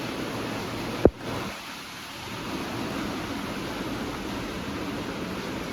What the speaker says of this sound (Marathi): पाऊस यायला लागला